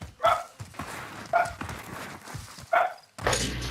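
A dog barks in Warzone, three sharp, separated barks spaced about a second apart over low background game noise.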